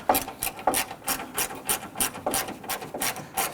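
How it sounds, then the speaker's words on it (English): A ratchet tightens the plastic grille bolts on a 2006-2010 Hummer H3, giving a close, quick series of rhythmic clicking strokes that repeat steadily with no one talking. "I recommend just using a ratchet or a gear wrench."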